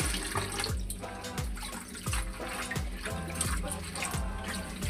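Red amaranth greens being rubbed and swished in a basin of water, soft repeated splashes and trickles at an even rhythm, fairly quiet and close.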